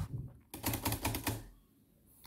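An Underwood Universal manual typewriter's keys strike in a quick run of five or six sharp clacks, close and crisp, with quiet pauses before and after.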